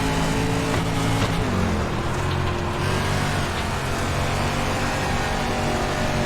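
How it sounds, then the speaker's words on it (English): A dirt race car in the game iRacing holds a steady loud engine drone, the pitch easing as the driver lifts off the throttle and touches the brake, with no talking over it. "I'm lifting a little bit more, using a little bit of brake to set the car now."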